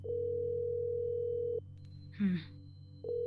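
Phone call dialing tone in the Tower of God game: a steady electronic beep tone that stops, leaves a short gap with a brief sound burst, then resumes near the end.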